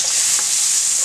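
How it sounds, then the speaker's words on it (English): Garlic is stirred in heated butter, giving a close, steady sizzle with a soft scrape of the stirring partway through, with no talking. "So we have our butter here, which is heated. I'm going to add my garlic to that. Stir my garlic for a few minutes."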